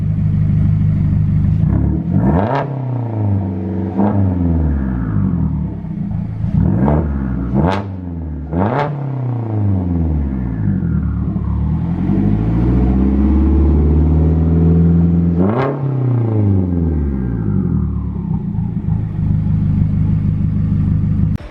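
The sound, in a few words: 2016 Mazda MX-5 Miata with custom turbo and 3-inch exhaust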